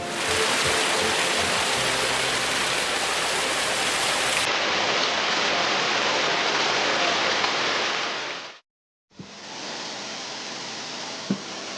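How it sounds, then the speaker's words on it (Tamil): Puliyichaaru waterfall in Kodaikanal, a towering fall about 1800 feet high, gives a constant broadband rush of falling water, steady and full throughout, broken once by a brief silent gap before the roar resumes. "சுமார் 1800 அடி உயரம் கொண்ட இந்த பிரம்மாண்ட அருவியின் அழகு கண்களையும் மனதையும் ஒரு சேர கொள்ளை கொள்கிறது."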